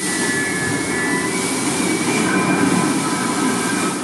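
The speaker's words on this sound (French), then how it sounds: "À bord du maxi trimaran, le bruit est permanent et assourdissant." A constant, deafening roar of wind and rushing water aboard a maxi trimaran racing at sea, steady and loud throughout with no pauses, powering through rough seas.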